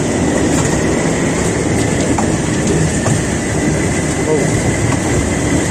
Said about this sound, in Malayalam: ഒരു ട്രെയിനിൽ കയറി ഇങ്ങനെ യാത്ര ചെയ്യാം നമുക്ക്.